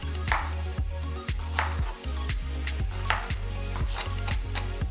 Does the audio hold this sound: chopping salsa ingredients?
yes